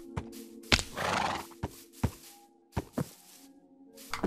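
A horse in the Minecraft video game neighs and whinnies over clip-clopping hooves, with sharp repeated knocks and thuds spaced across the few seconds, close and clear.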